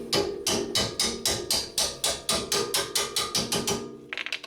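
A hammer taps a strut bolt through on a 2007 Honda Accord front suspension, with about fifteen steady metallic blows in quick even rhythm, close and loud, ending with a short flurry of lighter taps.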